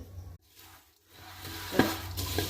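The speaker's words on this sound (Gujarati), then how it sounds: "આપણે એકદમ સરસ મજાના મમરાને આ રીતે ચમચાથી હલાવીને કમ્પ્લીટ કરી દઈશું" A spoon scrapes and rustles through tempered puffed rice in a pan, a brief dry stirring with a faint sizzle, close by, in quiet with no talking.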